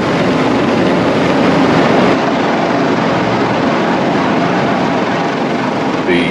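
Helicopter hovering low over a cruise ship deck during a medical evacuation, a loud, steady roar of rotor wash and engine that fills the whole stretch without letup.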